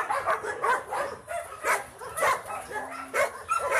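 A mother dog and her puppy at an animal shelter, with repeated yips, whimpers and small barks in an uneven rhythm close by, mixed with background voices.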